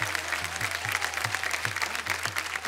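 An audience at a kirtan performance applauds steadily, a continuous wash of clapping heard at moderate distance, with a faint repeating low tone running underneath.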